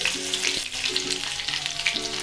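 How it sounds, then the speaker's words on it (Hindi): Mustard seeds and finely chopped chili fry in hot ghee, making a steady close crackling sizzle with light spattering throughout. A faint intermittent tonal hum runs underneath. "अभी हमारा घी हो गया है गरम। ये मैंने आधा चम्मच राई ली है, ये मैं इसमें डालूंगी।"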